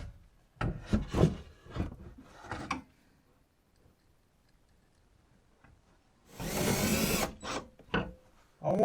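Drill or screwdriver driving screws into a rustic wooden corner floating shelf: two bursts of whirring, grinding fastening with rubbing and clicks, close by, separated by a quiet gap.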